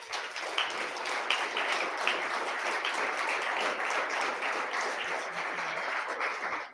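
An audience gives a steady round of applause at a talk in Estes Park, a dense, even wash of many hands clapping at moderate distance, with no voices over it.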